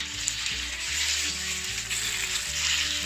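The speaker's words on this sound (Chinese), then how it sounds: "我们放入姜片、蒜片一起给它爆香先，我们再下入鸡肉" Chicken slices sizzle steadily in a hot wok with sliced ginger and garlic, a continuous, close frying hiss with faint stirring, and no talk.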